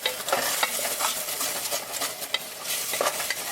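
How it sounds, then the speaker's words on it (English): Onion, celery and garlic fry in a pot for sausage and potato chowder, a busy close sizzle with repeated scraping strokes of a spoon as they are kept moving. "I'm just going to keep it in motion, keep stirring it"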